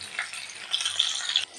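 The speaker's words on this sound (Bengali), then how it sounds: "এই যে আলুগুলো এখন একটু ভাজা ভাজা হয়ে এসছে" Potatoes frying in a pan for a prawn dish, giving a steady close sizzle with brighter crackling bursts partway through, heard alone with no talk.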